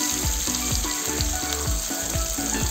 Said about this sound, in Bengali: পেস্টটা লাল লাল করে ভেজে নেব